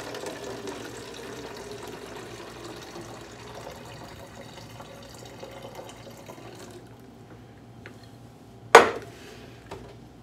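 Roughly 500 ml of water is poured into a brewing container, a soft steady splash and trickle that tapers off, followed by a sharp clink of the container near the end.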